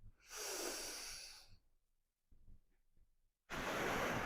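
Deep, slow breaths during a wall-based core, leg and arm workout: a long exhale of airy rushing, a quiet pause with faint soft sounds, then another strong breath starting near and clear.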